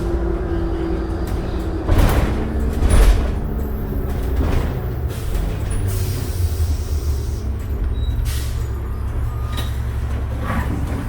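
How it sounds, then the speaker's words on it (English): Doors on a 2005 New Flyer D40LF city bus opening with an odd, sticky sound, a few thumps and scrapes over the steady rumble of the idling bus on a rainy day. "the doors make a weird sound, eh? Something is sticky."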